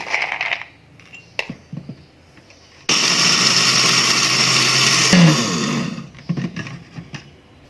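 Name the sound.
blender grinding fried peanuts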